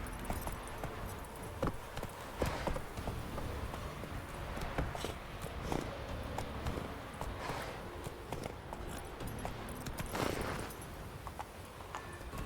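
Roach, the horse in the Witcher video game, gallops along with faint, rapid clip-clopping hooves. The steady patter runs the whole time under a low background wash.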